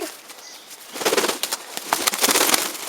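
A pigeon's wings flap in a few bursts of fluttering on a wooden decoy lure, loud and close, with quieter rustling between; no voices.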